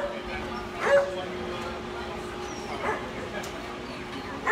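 Dogs just arrived by yacht from the Bahamas give a few short yips and whimpers, faint and scattered over a murmuring background with people talking nearby.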